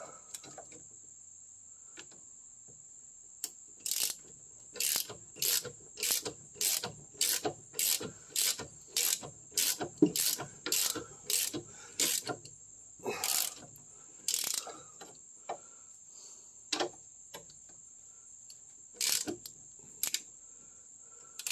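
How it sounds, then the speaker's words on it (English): Ratchet clicking as it spins a nut off the rear suspension of a Triumph Spitfire, close and loud, in a steady run of rapid bursts through the first half, then fewer scattered clicks. "Now that nut's spinning."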